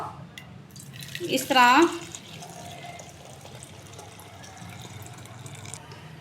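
Water pours from a wok into a bowl in one brief close splash that gurgles and dribbles, followed by quiet room tone, with someone speaking briefly.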